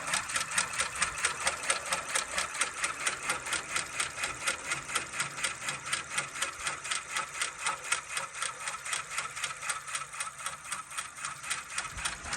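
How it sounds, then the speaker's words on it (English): An embroidery machine sews a satin stitch over zigzag on a fitness logo, its needle hammering in a fast, even rhythm that runs steadily and close throughout, with no voices. "Coming in, doing our zigzag. And then our satin stitch on top."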